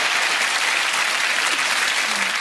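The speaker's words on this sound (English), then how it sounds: "Oh, applause." Audience applause at a Cinderella pantomime, a sustained, full burst of clapping from the theatre crowd, even and unbroken from start to finish.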